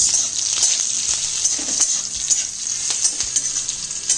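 Curry leaves and crushed garlic fry in a pan with a bright, hissing sizzle while a spoon stirs, scraping and tapping in short irregular strokes, close and steady with no speech.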